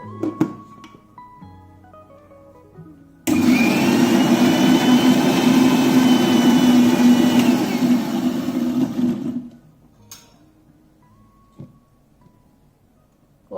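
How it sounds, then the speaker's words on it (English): Electric blender whirring steadily at full speed for about six seconds as it blends coffee lassi with kulfi, starting abruptly and then cutting off, with quiet kitchen clatter before and after. "Blend it now."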